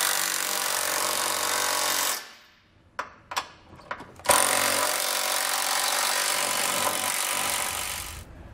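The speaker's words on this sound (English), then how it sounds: "we can come back with a 11/16 socket and snug it all down" Power tool bursts snugging Draw-Tite Max-Frame trailer hitch hardware with an 11/16 socket on a 2021 Subaru Crosstrek, heard as long loud runs of a buzzing driver broken by a pause with a few short clicks and rattles.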